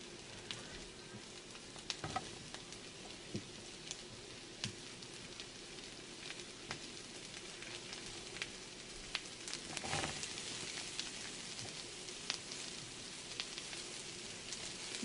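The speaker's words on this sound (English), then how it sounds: "I'm going to throw my mushrooms and onions in with that. I'm going to turn my pan down so they don't burn." Mushrooms and onions fry in a pan on turned-down heat alongside the makings of Salisbury steak, a steady quiet sizzle with occasional crackles and pops throughout and no talking.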